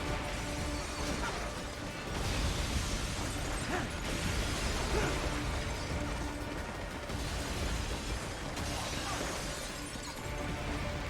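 Explosions and crashing debris in the video game Metal Gear Rising: Revengeance roar in a dense, continuous wall of loud blasts and shattering noise for about eleven seconds, with surges every couple of seconds and no speech on top.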